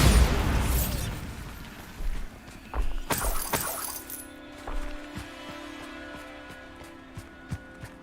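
A Bombarda blasting spell goes off in the video game Hogwarts Legacy: a loud burst with shattering debris, followed by a few smaller crashes and scattered clinks and tinkling pieces settling as the scene falls quieter.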